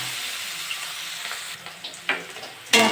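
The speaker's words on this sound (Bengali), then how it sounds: "দিয়ে একটু ভাজা ভাজা করে নেবো পেঁয়াজটা।" Onion and green chili fry in oil in a pan for a tilapia curry with taro roots, a soft steady sizzle that swells into louder crackling bursts near the end.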